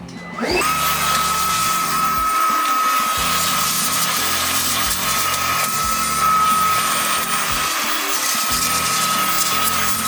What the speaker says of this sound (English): vacuum all this crap out so that you don't have to worry about it later